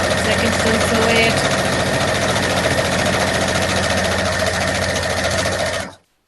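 A home sewing machine stitches a fabric face mask over pins, running loud and steady with a fast mechanical whir and rattle before cutting off abruptly at the end.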